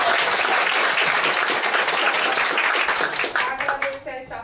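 Audience applause closing a labor union electoral debate in Brazil, a dense, steady burst of many hands clapping that holds loud for several seconds, then thins and fades.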